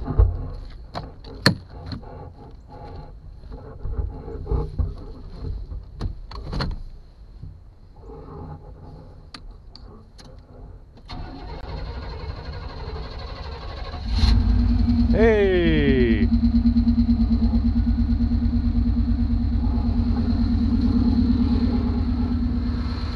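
A utility trailer project engine cranks, catches and settles into a steady, loud idle rumble after a stretch of quieter clatter and handling noises, with a brief rising whine as it starts.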